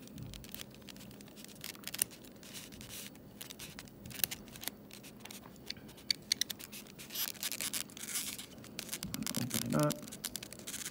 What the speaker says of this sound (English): get some scissors going up here